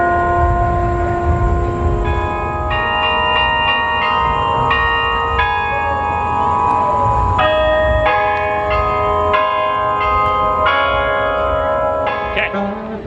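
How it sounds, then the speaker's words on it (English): The Delacorte Clock in Central Park rings out a bright, sustained melody of bell chimes, one tuned note after another, loud and close over steady park ambience with no voices. "The Delacorte Clock here chimes and dances every half hour from 8 a.m. until 6 p.m."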